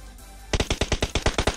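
Rapid automatic gunfire in the mobile game PUBG Mobile, a burst of about ten sharp, evenly spaced shots that starts suddenly after a short quiet moment, loud and close, with no talking.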